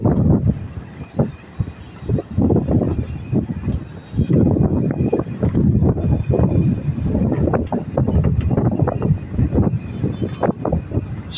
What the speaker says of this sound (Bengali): সেই বাতাস ছাড়তেছে এবং বৃষ্টি আসতেছে সেইভাবে দূর থেকে।